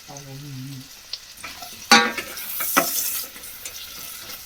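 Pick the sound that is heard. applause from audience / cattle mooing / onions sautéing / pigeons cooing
onions sautéing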